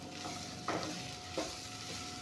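Raw jackfruit pieces fry quietly in a pan, a soft steady sizzle broken by two brief spatula scrapes.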